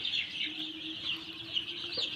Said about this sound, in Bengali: দেখেন মুরগিগুলো 7 দিন বয়সে কতটুকু বড় হয়েছে